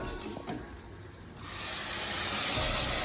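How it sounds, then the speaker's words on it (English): A quiet sizzle swells up halfway through and settles into a steady, hissing fry from a pan of risotto nearby. "And that's sizzle."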